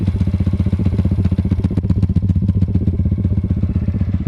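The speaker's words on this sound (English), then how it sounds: "For a little pit bike, she sounds like a big old bike." A small pit bike fitted with a pipe bomb exhaust idles with a loud, deep, rapid thumping pulse that stays steady and close throughout.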